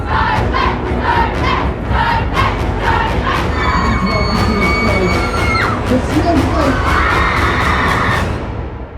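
A sellout crowd cheers and screams for a fake boy band at a Christmas-time show: loud, continuous roaring and whooping, with rhythmic claps and bright musical tones cutting through.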